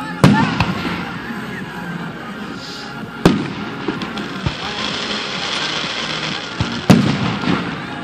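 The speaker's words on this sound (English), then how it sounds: "That was like a million fireworks" Canada Day fireworks in 2016 burst in three sharp booms spaced a few seconds apart, with crackling and rumbling between them and people talking nearby.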